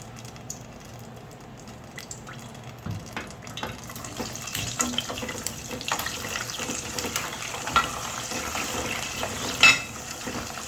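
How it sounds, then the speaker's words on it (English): Meat frying in bleached palm oil for ayamase ofada sauce, a steady soft sizzle with scattered small pops and crackles that grow a bit busier toward the end, heard alone. "we're just going to fry our meat a little bit in this palm oil"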